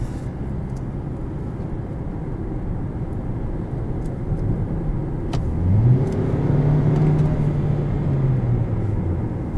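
A 2018 Hyundai Sonata SE engine drones steadily, then the pitch drops briefly as kickdown downshifts and climbs as the car accelerates hard, heard from inside the cabin.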